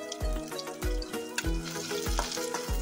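Chopped onion frying in oil for Kashmiri dum aloo, with a constant sizzle and regular, closely spaced scraping stirs of a spatula against the pan, nearby and fairly loud, no talking.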